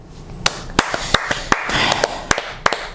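A few podcast hosts clap in a loose, uneven rhythm of about eight sharp, close claps over three seconds, with faint room noise between the hits.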